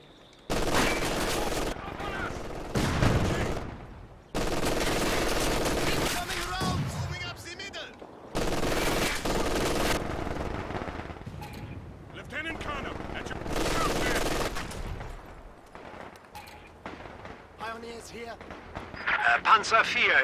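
Machine gun strafing fire from a strafing run in Company of Heroes 2 on the winter Lienne Forest map roars in long, dense bursts separated by short breaks, loud and continuous, with rattling impacts near the end.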